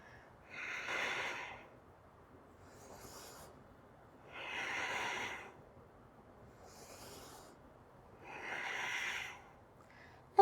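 Slow, close breathing during a chair yoga shoulder and back exercise, with three long airy exhales that alternate with softer inhales in a calm, regular rhythm.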